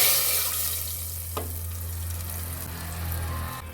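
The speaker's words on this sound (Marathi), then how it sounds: "बघा, आता मी याला कुकरमध्ये घालते आहे" Hot ghee tempered with dry red chillies sizzles steadily as it is poured into a pressure cooker of rajma, a close, continuous frying hiss with a low hum and one brief clunk, no voices.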